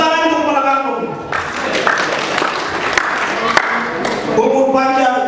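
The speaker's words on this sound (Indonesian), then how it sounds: "Tepuk tangan untuk kepala kampung." An audience at a birthday celebration for a pastor breaks into loud, dense applause for the village head. The clapping fills the middle of the clip, with a voice speaking before and after it.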